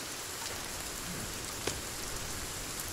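Steady rain in the PC survival game Sons of the Forest, a dense, even hiss of falling drops with occasional faint individual drips, continuous and moderately quiet.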